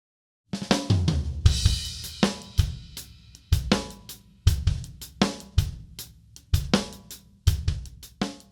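Drum kit groove starting from silence, the first hit landing cleanly after a brief quiet and continuing in a steady rhythm of kick, snare and cymbal hits, close and moderately loud, no talking.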